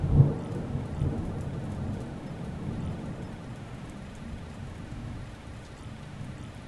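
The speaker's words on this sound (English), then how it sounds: "Rain on a tin roof, distant thunder." Rain drumming on a tin roof with a low rumble of distant thunder, a soft thud at the start then a steady wash that slowly fades, no voices.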